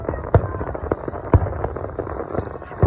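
Canada Day fireworks bursting in a steady string of sharp cracks and booms, roughly one every second, over a constant crowd-like background wash at moderate distance.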